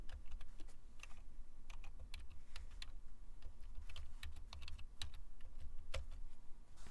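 Computer keyboard typing an SSH command at a terminal, a steady run of quick, close, light key clicks with brief pauses, alone and fairly quiet.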